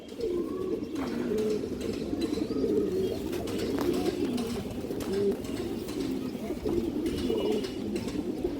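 Pigeons coo continuously and close, with low rolling calls layered over one another, faint chirps and a voice in the background.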